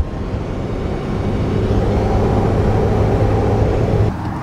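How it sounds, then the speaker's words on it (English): Loud, steady engine drone of a Mazda Miata heard from inside the cabin, a continuous low rumble with a sustained tone that holds level for about four seconds, then drops off abruptly near the end. "Hearing the engine in this, it's so loud in these cars, like ridiculously loud."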